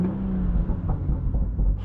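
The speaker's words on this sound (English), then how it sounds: "This car pops in Sports Plus with traction off." BMW M140i in Sport Plus mode with traction off, a loud close-up exhaust rumble with low engine drone and a few faint irregular crackles and pops.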